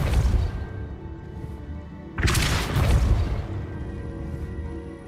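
A Depulso spell cast in Hogwarts Legacy lands as a sudden loud boom with a crashing burst, decaying into a rumbling tail over a low ambient drone, preceded by a softer thump.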